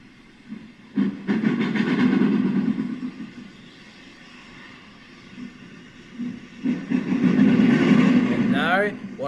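Two LNER A3 model locomotives pull a train on a model railway: a rumbling, hissing run that swells, fades, and then builds again, with voices over the running noise.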